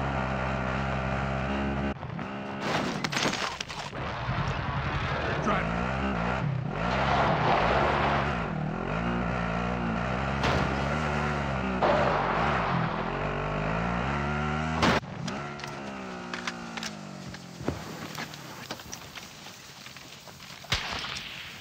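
Steady droning engine of a vehicle being driven in Call of Duty Modern Warfare 2019 Plunder mode, loud and continuous with shifting pitch, then rougher and more broken toward the end.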